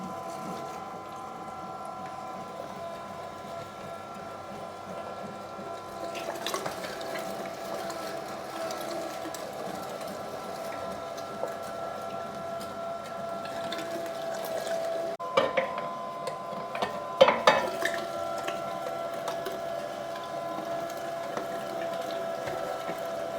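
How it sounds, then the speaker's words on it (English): An electric meat grinder fitted with a 5 mm plate runs steadily, grinding meat and fat for Nürnberger bratwurst, a continuous mechanical whir and hum close by with occasional louder clunks and rattles toward the end. "what we're gonna do is we're gonna grind the meat and the fat through this blade"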